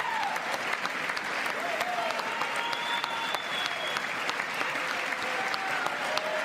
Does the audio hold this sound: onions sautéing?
no